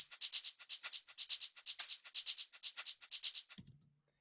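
A tech house shaker loop plays rapid, bright rattling notes in a steady pattern, some nudged slightly off the grid for swing, before stopping with a brief low thump at the end.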